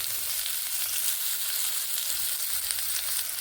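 Pumpkin pieces fry in a pan while being stirred, giving a dense, even sizzle that stays loud and close from start to end, with no voices.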